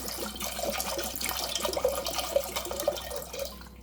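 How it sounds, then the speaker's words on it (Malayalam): Water poured into a pressure cooker holding peanuts for a peanut curry: a steady, close, gurgling stream of liquid that runs for several seconds without pause, with no voices. "വെള്ളം ഒഴിക്കുക"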